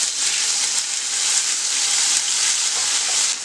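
Cumin seeds and ginger-garlic paste fry in a spoonful of hot oil, giving a steady, bright, loud sizzle that holds evenly for the whole stretch with no talking.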